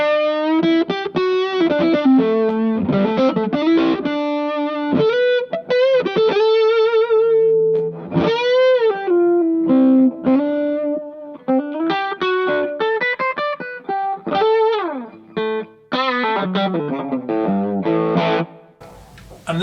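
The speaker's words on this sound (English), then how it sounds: "this one really does that kind of classic fuzz thing of going really trebly" Electric guitar played through a fuzz pedal, buzzy and distorted with bends and quick lead phrases, loud and continuous, no voices.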